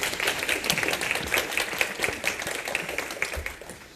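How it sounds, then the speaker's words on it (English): A conference plenary audience applauds in a steady, moderately distant wash of many hands clapping that lasts the whole stretch. "Applause."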